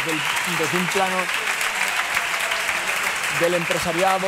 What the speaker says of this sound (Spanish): Parte del público que ha saltado como un resorte para aplaudir en pie esta segunda letra de tango